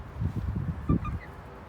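Chickens cluck and squawk faintly in a short, uneven burst of calls, a little distant, with a rough low murmur beneath them.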